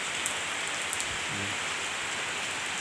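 Heavy rain pouring down steadily in a dense, unbroken hiss, close and loud throughout with no voices.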